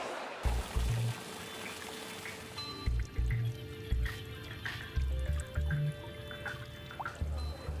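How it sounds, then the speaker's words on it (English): Water splashes and trickles steadily in a star-shaped garden fountain at the Chelsea Flower Show, a continuous close pour with no voices. "what I really love about it is this star water fountain."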